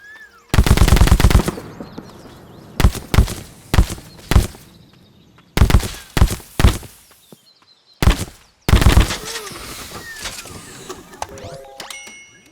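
Stylized gunfire effects designed not to sound like real guns: a long rattling automatic burst, then several separate bursts of sharp clustered shots with quieter clicks and mechanical noises between, ending in a rapid rattling volley.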